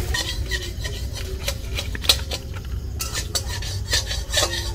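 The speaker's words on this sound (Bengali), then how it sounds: "চাল ভাজতেছে প্রথমেই, খুন্তি ধরছে দেখুন" Rice dry-frying in a pot for homemade chicken biryani, a spatula scraping and stirring it in a steady run of close, gritty rasps and clinks, with a low rumble of the fire underneath.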